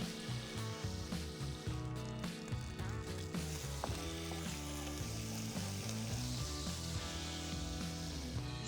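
Garlic cloves, chili and anchovy fillets sizzle steadily in frying oil in a pan, a soft continuous hiss running under prominent background music throughout.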